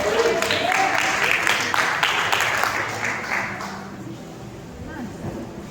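A church congregation at a communion service breaks into applause, a broad wash of clapping that swells and then gradually fades, mixed with voices.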